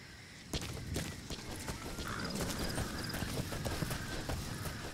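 Hooves clip-clop in a steady, fairly close rhythm as a horse trots across ground in Metal Gear Solid V, with a faint bird call and low ambient wind underneath.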